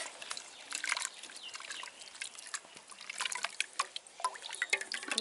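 A hand stirs wheat flour into water for a jackfruit wheat halwa, making soft, intermittent sloshes, squelches and trickles. The sound is quiet and close, with no talking.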